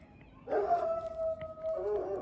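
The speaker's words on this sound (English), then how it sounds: "Excuse the dog." A neighbor's dog lets out a long, wavering howl with a few bark-like yips, faint and somewhat distant.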